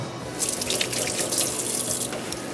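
Kitchen tap running for wetting hands before shaping almond biscuit dough, a close, loud, continuous splash of water into a sink with small drips, no talking.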